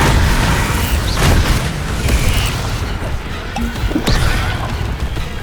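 Spell explosions and impacts from the Bombarda curse in Hogwarts Legacy: loud booming blasts and crashing debris layered over game noise, several bursts in quick succession.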